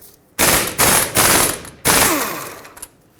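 Ratchet loosening an 18mm caliper bracket bolt on a 2004-2008 Ford F-150 front brake, heard as four loud, close bursts of rapid clicking separated by short pauses, with no talking.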